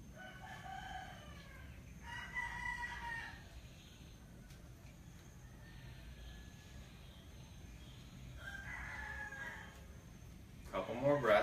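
Roosters crow several times at moderate distance, each call rising and trailing off, over a quiet steady background hum.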